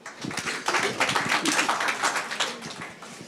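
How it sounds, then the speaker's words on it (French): Audience applause for a prize winner at a banking-sector innovation pitch event, a dense, steady wash of many hands clapping at moderate loudness, with faint voices underneath. "On peut l'applaudir."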